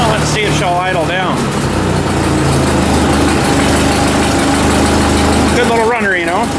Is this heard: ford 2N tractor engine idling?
yes